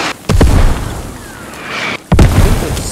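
Two heavy mortar explosions from the military shooter game Squad, each a sudden loud boom with a long rumbling tail, spaced under two seconds apart amid constant battlefield noise.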